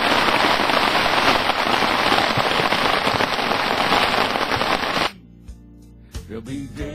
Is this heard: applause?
no